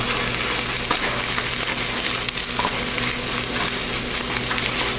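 Eggs scrambled for migas in a frying pan, a continuous bright sizzle with soft stirring scrapes, close and steady with no talking.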